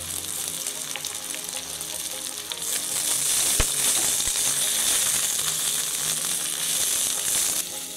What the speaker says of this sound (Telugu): ఇలా ఆయిల్ అంతా మళ్ళీ రిలీజ్ అయ్యే వరకు ఆకు ఫ్రై చేసుకోవాలి